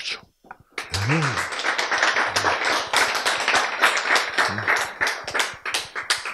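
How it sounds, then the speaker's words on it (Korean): Audience clapping at a Korean health lecture on cancer treatment, a dense burst of many hands that starts after a brief pause and keeps going steadily, with a few voices calling out under it. "박수."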